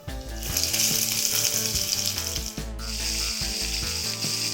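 Stuffed bitter gourd (karela) fries in oil on a griddle with a loud, continuous close sizzle, broken by a brief dip midway, no talking.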